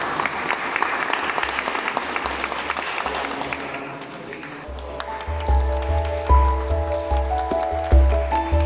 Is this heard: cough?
no